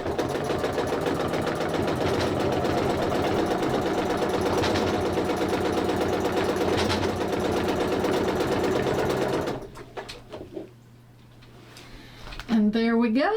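A sewing machine stitching quilt layers runs steadily and loud for about nine seconds, its rapid needle rhythm under a person talking, then stops, leaving quieter handling noises and a brief voice.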